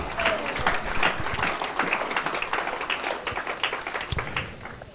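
A church congregation at a French worship service bursts into sustained, dense applause, many hands clapping together at close range and continuing steadily throughout.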